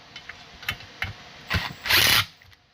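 A power tool driving home Loctite-coated muffler bolts on a Stihl 044 chainsaw, a few short taps and clicks followed by a louder whirring burst near the end, close and without talk.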